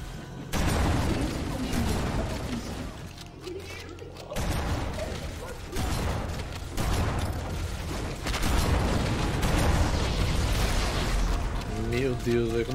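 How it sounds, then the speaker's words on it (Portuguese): Dense, rumbling explosions and gunfire from the video game Halo: Combat Evolved roll on almost without a break, loud and layered, with a voice talking over the chaos. "como é que vem tanta explosão assim"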